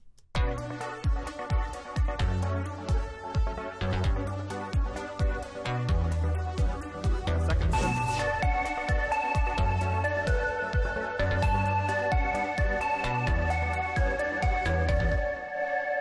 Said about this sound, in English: I'm kind of just changing the synths that are playing these 2 parts that you're going to hear.